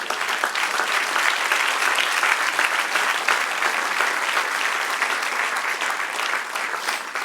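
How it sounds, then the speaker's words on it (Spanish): A church congregation breaks into sustained applause during a sermon, a dense, even roar of many hands clapping that continues for several seconds without a break. "Dale un aplauso al que reina."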